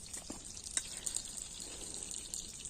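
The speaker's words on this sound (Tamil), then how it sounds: "புளி கரைக்கிறாரு." Tamarind is squeezed and dissolved in water by hand in an outdoor village kitchen, making soft, faint splashing and dripping sounds with small irregular sloshes and no talk.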